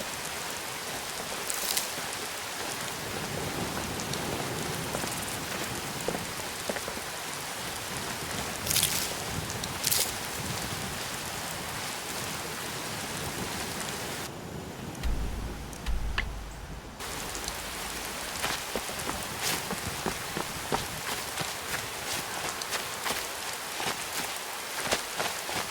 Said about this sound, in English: It's so dark and rainy out here.